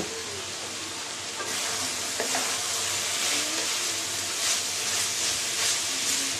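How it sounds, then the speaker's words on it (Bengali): A mixed vegetable fry being stirred in a hot pan, a loud continuous sizzle and hiss with scraping strokes of the spatula that grow busier after the first second, close by and with no talking. "ভাজিটা একটু নেড়ে দেই"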